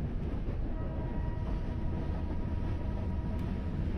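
Chennai suburban fast local train running between Beach and Tambaram in Train Simulator, a steady low rumble of wheels and motors with faint rail hum, continuous and close, no voices.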